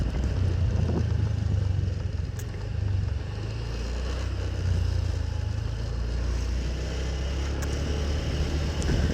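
Motorcycle engine rumbling steadily while crossing the Lekoala suspension bridge in Pallantikang, Maros, a low continuous drone with wind-like broadband noise, no talking.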